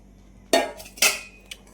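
A spoon clanks twice against a pan as besan mixture is stirred with sugar syrup over a low flame, two sharp metallic knocks followed by a faint tap, with quiet in between.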